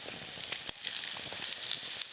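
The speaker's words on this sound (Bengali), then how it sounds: "গোটা জিরে, তেজপাতা, শুকনো লঙ্কা আর দেব হিং" Whole cumin, dried chilli, bay leaf and asafoetida temper in hot mustard oil for chana dal, a close, steady crackling sizzle with scattered sharp pops and spits, no talk.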